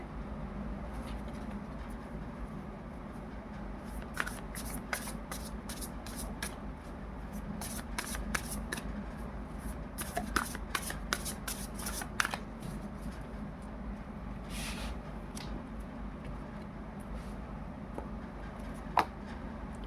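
Tarot cards are shuffled close by and quietly, with repeated soft riffles and flicks coming in bursts over a steady low background hum.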